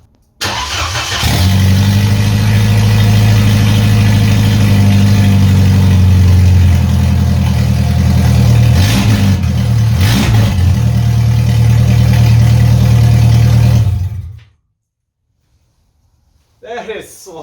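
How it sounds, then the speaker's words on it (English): A Jeep Wrangler YJ four-cylinder engine with open headers starts and runs loud and raw, climbing through a couple of revs before cutting off abruptly, then silence and a voice speaking at the end. "we're gonna hear what the 4-cylinder sounds like with open headers"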